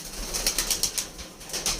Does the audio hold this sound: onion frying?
no